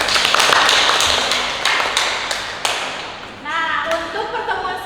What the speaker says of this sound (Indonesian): Kita kasih aplaus buat teman kita.